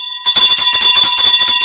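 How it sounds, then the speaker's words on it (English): A bell rung during a live stream, sounding as a loud, steady ringing tone with sharp high overtones that continues alone after a brief quiet start. "I'll ring the bell for Spurry Lee."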